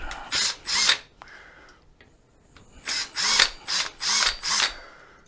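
A Phillips screwdriver backs out wiring screws during a Golden EX transaxle repair, making bursts of close, loud scraping and grinding in rhythmic strokes, with a quieter pause in the middle before several more rapid bursts.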